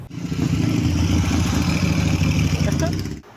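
A motorcycle that a volunteer has repaired for soldiers at the front runs steadily and close by, its engine holding a continuous, even rumble for a few seconds with no talk over it.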